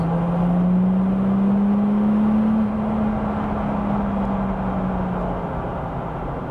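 A tuned Audi A5 3.0 TDI diesel accelerating hard in gear, its engine drone steady and loud inside the cabin and rising slightly in pitch before easing off, with road roar underneath.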